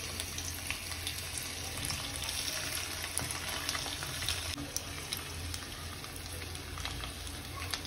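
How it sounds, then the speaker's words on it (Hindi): Mashed boiled potatoes roasting in a pan for Navratri aloo halwa give off a steady, moderate frying hiss with a continuous crackle and faint scraping, and no talk. "इसे हम जब तक भूनेंगे जब तक ये एकदम लाल ना हो जाए"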